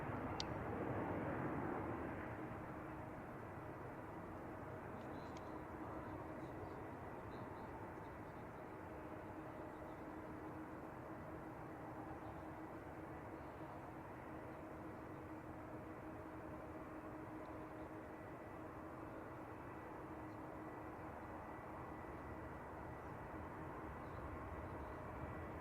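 Turkish Airlines airliner at San Francisco Airport, a steady distant jet engine roar that holds evenly throughout, slightly louder at the start, with no clear voices.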